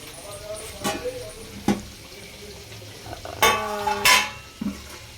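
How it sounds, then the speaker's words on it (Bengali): A spoon scrapes and clanks against a cooking pot while peas are stirred, giving a few sharp metallic knocks and scrapes spread over the moment, with a voice speaking throughout. "এবার আমরা মটরটাকে একটু নাড়াচাড়া করে নিয়ে"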